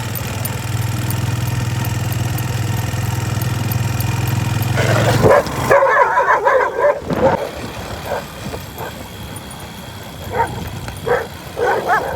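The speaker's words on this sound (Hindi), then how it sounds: "कुत्ता पीछे पड़ के बड़ी मुश्किल जान बची है।" An engine idles steadily until it cuts out. A dog then barks in a run of loud, sharp, irregular barks close by.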